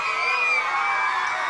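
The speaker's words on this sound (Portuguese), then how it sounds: "Cadê o grito dos meninos?" Children shout and cheer together at a festa junina school party, a loud sustained crowd of young voices with no break.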